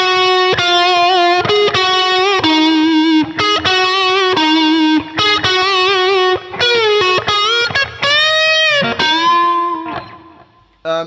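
Distorted electric guitar set to a lead tone through a Line 6 HX Stomp with a small reverb. It plays sustained melodic lead notes and bends, loud and alone, then fades out near the end.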